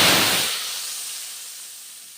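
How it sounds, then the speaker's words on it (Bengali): Whole cumin and black cumin seeds hit hot oil for a dal tempering, a loud burst of sizzling hiss that quickly settles into a fainter, fading steam-like hiss over a couple of seconds. "গোটা জিরে কালো জিরে ভেজে নিচ্ছি"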